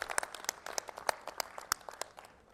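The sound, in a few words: crowd applause welcoming arrivals at a political rally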